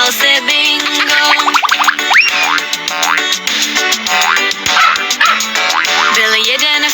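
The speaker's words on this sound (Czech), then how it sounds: "Byl jeden farmář pejska měl, co jmenoval se Bingo" In a Czech children's song about a farmer's dog, cartoon barks and yips pop up over bright, busy music, with bouncy boing-like effects throughout.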